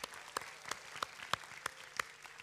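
A church worship crowd claps in a steady, even rhythm, sharp claps repeating about three times a second, fairly quiet and without voices.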